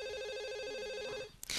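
A telephone rings in The Sims video game, an electronic trilling ring pulsing steadily for over a second before cutting off into a burst of louder game noise.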